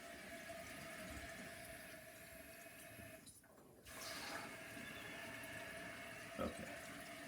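Water rushes steadily through a toilet supply line, filling the tank after a full toilet replacement. The flow is continuous and moderately faint, with a short dip partway through and a small knock near the end.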